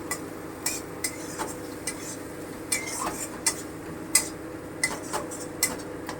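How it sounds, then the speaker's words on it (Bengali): Onion paste and garlic being stirred and fried in a pan, with a utensil clinking and scraping against the metal in irregular taps over a low, steady background. "এবার আমি হালকা করে নেড়ে ভেজে নিচ্ছি"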